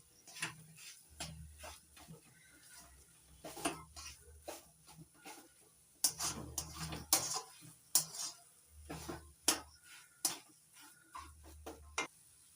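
Melted jaggery filling for jackfruit pithe is stirred in a pan, producing close, irregular bursts of scraping and clattering spoon strokes, with short quiet gaps between them.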